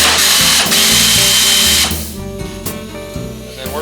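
A power tool loosens a door hinge bolt on an Oldsmobile Cutlass Supreme under restoration, a loud, close whirring burst that runs steadily for about two seconds, then gives way to quieter mechanical rattling.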